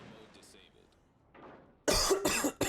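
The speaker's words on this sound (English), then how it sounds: "Excuse me, still got a bit of a cough." Two sharp, loud coughs come close to the microphone after a stretch of quiet background game sound, the second cough rough and clipped.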